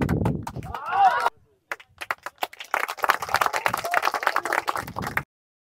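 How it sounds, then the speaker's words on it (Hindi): People clap at a long jump training session outdoors, with a rapid run of sharp, close claps after a brief pause, beginning near a voice and then continuing alone. "तालियां भाई"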